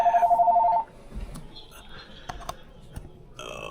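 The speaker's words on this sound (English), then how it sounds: "House phone never rings, but today it decides to ring." A house telephone rings with a loud, fast-pulsing electronic trill for under a second, then cuts off, leaving quiet room noise with scattered small clicks and knocks.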